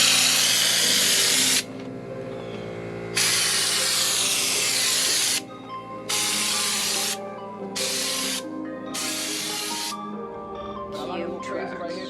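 A spray can of Raptor Liner coating hisses loudly in several long and short bursts with brief pauses between, close and harsh over a steady tonal background.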